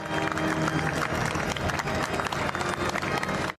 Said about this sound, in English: The King departing St. Giles to a muted round of applause